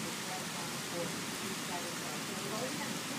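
Steady heavy rain falls on a waterlogged garden in a storm, a broad continuous wash of noise that holds level from start to finish with nobody speaking.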